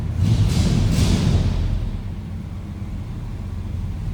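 A 1971 Chevrolet C10 pickup's engine idles close by with a low, steady rumble, slightly louder at first and then settling into an even drone.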